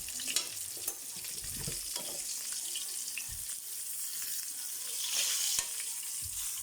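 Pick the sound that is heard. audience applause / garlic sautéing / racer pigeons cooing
garlic sautéing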